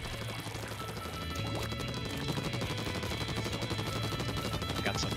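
Weapon fire in Splatoon 2, a steady, dense stream of rapid popping shots with clattering impacts, loud and continuous throughout with no talk.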